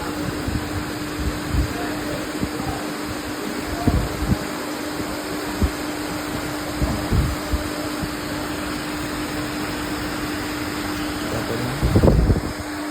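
The electric motor of a pump runs with a steady mechanical hum and a fixed tonal whine, a constant drone with a few faint knocks and a brief clatter near the end, no voices.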